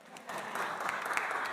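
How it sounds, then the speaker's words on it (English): A small audience at a piano concert breaks into a brief round of applause, clapping rising quickly and continuing steadily for a moment. "Give yourselves a round of applause."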